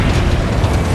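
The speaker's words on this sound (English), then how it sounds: "made the car drive straight into the meth lab, causing it to explode" Huge explosion of a meth lab after a car is driven into it, a dense, sustained roaring blast with heavy low rumble filling the whole moment at high loudness, no voices.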